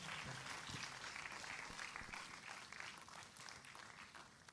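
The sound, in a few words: audience applause welcoming chief guest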